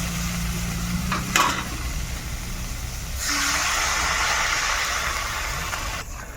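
Water poured into a pan of sizzling potato and cauliflower curry sets off a sudden loud, steady hiss that replaces the quieter stirring and frying sounds heard before it.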